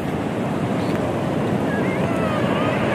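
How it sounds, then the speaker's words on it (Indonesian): Rainy-season surf rolls onto the long beach at Pantai Melawi in Bachok, Kelantan, a constant broad roar of breaking waves mixed with wind buffeting the microphone, with no clear pauses. "Tengok ombak belakang tu."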